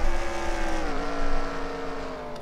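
V8 Supercars roar out of a corner on the opening lap of a season-opening race, loud layered engine notes sliding down in pitch as the pack accelerates away, a continuous dense howl with no talk over it.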